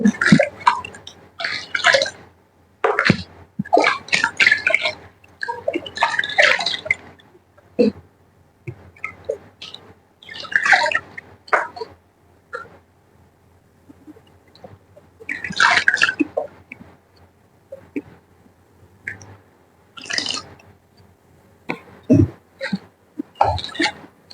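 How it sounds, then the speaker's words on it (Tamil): Spinach greens rinsed by hand in a bowl of water, with repeated bursts of splashing and sloshing broken by short pauses and drips, close and fairly loud. "ரெண்டாவது வாட்டி நல்லா அலசி நம்ம கீரையை குக்கர்ல சேர்த்துக்கலாம்"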